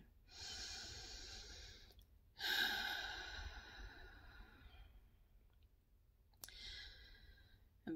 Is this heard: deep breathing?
yes